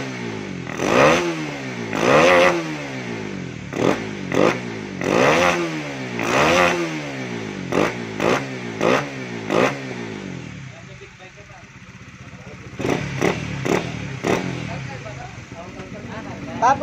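A Suzuki Supra GTR 150 fuel-injected motorcycle with a stock pipe and a reported shaking fault, running close by with repeated sharp throttle revs rising and falling, then settling to a rough idle, while someone talks over it.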